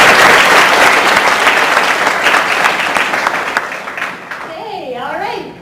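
Applause from a large audience at a spring convocation ceremony: dense, loud clapping that slowly thins and fades, with a voice briefly audible near the end.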